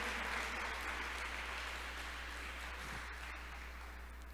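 Church congregation applauding during a Spanish-language worship service, a steady dense wash of clapping that holds evenly throughout, moderately loud with a low hum beneath.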